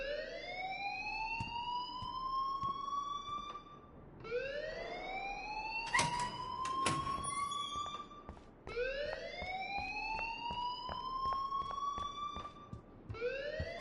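An alarm in the video game Life is Strange wails in repeated rising siren sweeps, each about four seconds long, loud and steady, with clattering noises mixed in midway.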